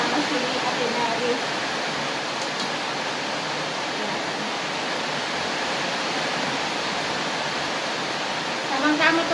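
Steady rainfall hisses continuously in wet, rainy weather, a dense even wash of noise with no talk over it.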